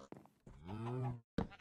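A Minecraft cow lets out a single loud, drawn-out moo, with a short grunt before it and another brief low sound after a pause.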